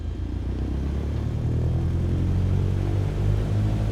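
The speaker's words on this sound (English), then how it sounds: "Now we're facing in the wind, we're going to put the power into 1700 RPM." A light aircraft engine in a flight simulator runs up to 1700 RPM while facing into the wind, giving a steady, loud low drone with a constant hum throughout and no talking.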